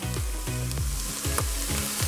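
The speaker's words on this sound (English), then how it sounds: "I'll pretty well just slowly cook these away until our peppers are nice and soft" Peppers and extra vegetables fry in oil with salt and pepper in a pan of moose chilli, a steady close sizzle with periodic stirring scrapes roughly every half second.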